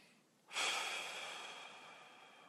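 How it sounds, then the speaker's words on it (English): A single deep breath taken at the close of a spiritual talk, a sudden airy inhale-exhale rising after a quiet half second and slowly fading, close to the microphone and alone. "Take a deep breath."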